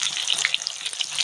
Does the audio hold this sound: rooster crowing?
no